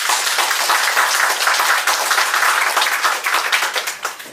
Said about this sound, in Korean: 자 힘차게 박수 한번 주고